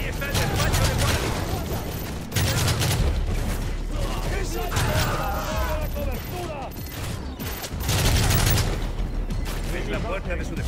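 Video game gunfire from Call of Duty: Modern Warfare 3, loud bursts of automatic fire and shots in dense clusters throughout, with mechanical clatter between volleys and a voice speaking over the action.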